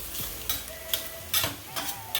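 Onion and chicken sautéing together in a hot pan, with a steady sizzle and several scraping stirs of a utensil at regular intervals, close and fairly loud.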